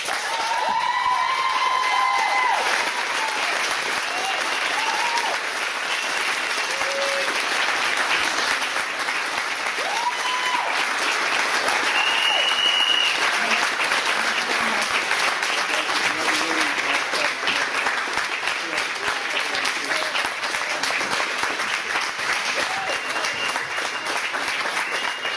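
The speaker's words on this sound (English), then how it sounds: "well done for being so enthusiastic, but the more time you spend applauding, the less time we have to debate that" The public gallery at a full council meeting on a nursery review bursts into long, sustained applause, a thick steady wash of many hands clapping with scattered cheers and voices mixed in throughout.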